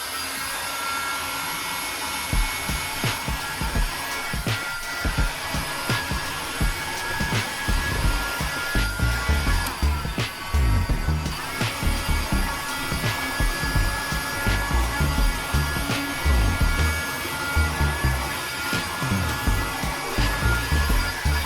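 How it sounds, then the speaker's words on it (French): A heat gun blowing hot air onto PVC to loosen it: a constant, loud rushing drone that runs without a break from start to end, with faint handling noises underneath. "Moi, je préfère utiliser ce décapeur-là pour ne pas brûler le PVC."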